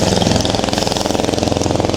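A motorcycle engine runs close by with a steady, rapid mid-pitched rumble for the whole stretch, loud and unbroken, heard on a street in Margosatubig, Zamboanga del Sur.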